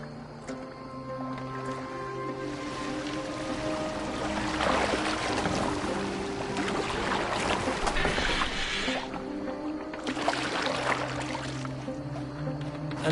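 A boat glides through water in Assassin's Creed Valhalla, with a steady wash and splashing of the hull through the waves and a constant low drone beneath, building in the middle and again near the end.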